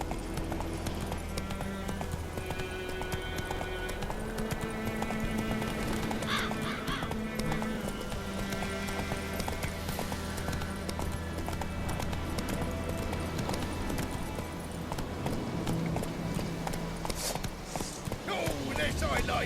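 Roach, the horse in The Witcher 3, trots along with steady clip-clopping hooves and an occasional whinny, set against dense game music and ambience.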